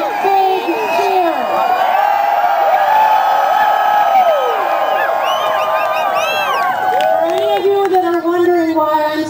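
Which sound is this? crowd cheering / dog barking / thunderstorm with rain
crowd cheering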